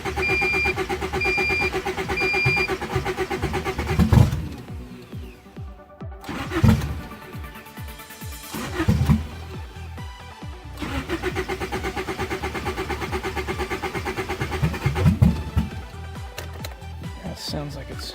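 A turbocharged Honda Civic with a D16Z6 engine cranks repeatedly in bursts, stumbling and failing to catch as it floods, with rough idle-like running between attempts.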